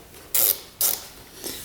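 A ratchet wrench loosens a 10mm bolt holding a carburetor, giving two close bursts of rapid clicking and then a fainter third one, with no talking.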